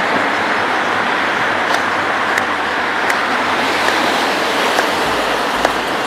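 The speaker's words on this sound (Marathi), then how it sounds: "अथांग समुद्र किती छान आहे" Sea waves wash against the shore at Worli Promenade in Mumbai, a dense, continuous roar of surf, loud and steady, with faint distant clicks.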